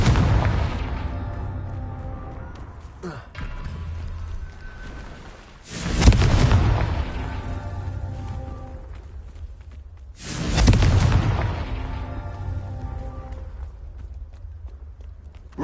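Explosive blasts from a spell in Hogwarts Legacy go off three times, each a sharp loud boom followed by a long rumbling decay. Light footsteps and softer impacts sit between them.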